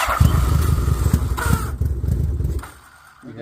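Honda GL1200 Goldwing motorcycle with a starter that fails to disengage, giving a continuous rough mechanical whir and grinding close by that fades out near the end before rising again briefly.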